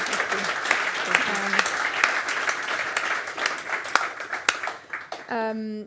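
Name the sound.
audience round of applause for two speakers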